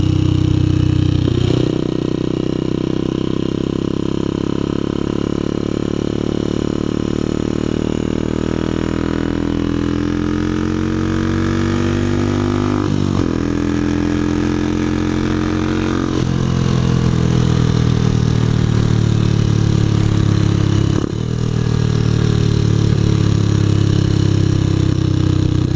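A motorcycle engine runs and idles, a steady mid-pitched rumble that shifts in pitch a few times, with brief clatter and no talking.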